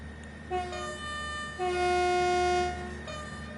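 Class 158 diesel multiple unit in Train Sim World 5 on the Midland Mainline, a steady droning engine and transmission tone that swells as the throttle opens, holding loud and close before easing slightly.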